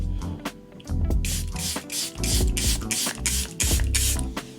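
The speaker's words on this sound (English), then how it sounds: "this is a good setting spray" Several quick hissing spritzes of a makeup setting spray bottle, close and fairly loud, repeated in a rapid rhythm over a low background hum.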